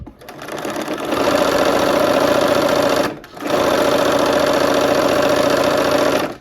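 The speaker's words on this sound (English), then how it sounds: "We're gonna go ahead and stitch on both sides using our 1/4 inch foot again." A sewing machine fitted with a 1/4 inch foot stitches quilt fabric, a loud, close, steady mechanical whir that runs on, pauses briefly, then picks up again at the same pace.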